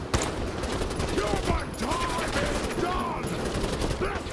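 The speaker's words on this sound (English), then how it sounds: "Oh, they're shooting me" Enemy gunfire in Fallout 4 crackles in rapid, dense bursts of overlapping shots, loud and continuous across the whole stretch, with game sounds mixed in.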